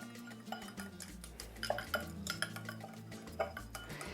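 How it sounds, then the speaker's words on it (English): Chopped nopales cactus salad seasoned with oregano is tossed in a bowl, with soft scattered clinks and scrapes of a utensil against the dish, quiet and irregular. "We're going to mix it all up."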